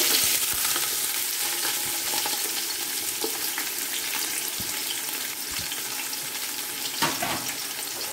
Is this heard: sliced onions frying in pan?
yes